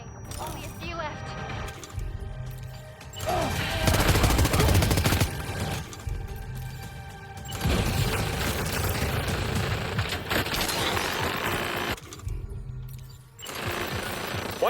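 Gunfire in Death Stranding 2: On the Beach comes in clustered bursts of rattling, mechanical shots that stop and restart over about fifteen seconds. In-game voices talk between and over the volleys.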